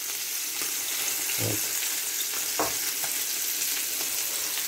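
Boiled chicken legs frying in a pan give a steady, loud sizzle throughout, with a few soft clinks of stirring; a voice speaks one brief word.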